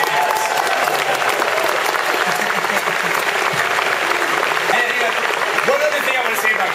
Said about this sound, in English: Guys, a round of applause for Cliff Blazinski from Epic.